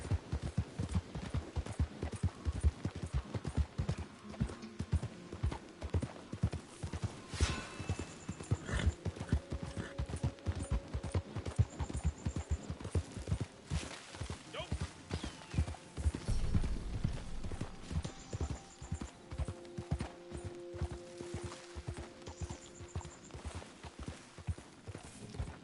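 Horse hooves in Red Dead Redemption 2, a steady close clip-clop gait running through the whole stretch, with a brief snort or whinny and faint ambient game sounds underneath.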